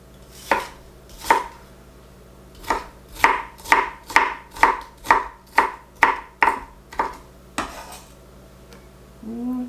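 A knife chops an onion on a board in a home kitchen: about a dozen crisp, close chops, a few spaced strokes and then a quick steady run, with no talking.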